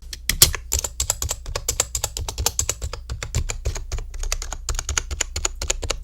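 Rapid typing on a 1STPLAYER Black Sir mechanical keyboard, crisp close key clacks in quick irregular bursts, with occasional louder strikes and no talk.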